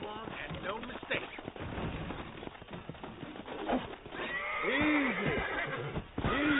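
A wild horse in the Western video game Red Dead Redemption whinnies and snorts amid hoof clatter and game sounds, fairly close, with a voice speaking over it.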